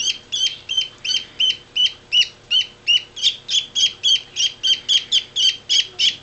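Hungry parakeet chicks being hand-fed cry in a fast, steady run of about twenty shrill, raspy peeps, close and loud, with no talking.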